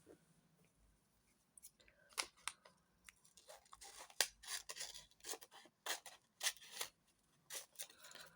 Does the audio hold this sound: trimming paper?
yes